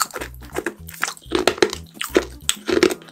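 Orange-flavoured rock candy is bitten and crunched up close, a series of sharp, brittle crackles in uneven bursts with brief pauses between chews, loud and alone without talk.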